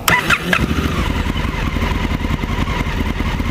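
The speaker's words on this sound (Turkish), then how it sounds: "motoru çalıştıracağım" A Honda Africa Twin CRF1000L motorcycle engine cranks briefly and catches, then settles into a steady, loud, close idle.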